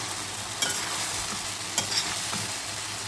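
Chilli idli being stirred and fried in a pan, a continuous close sizzle broken by a few sharp spatula scrapes and clinks against the metal; no voices.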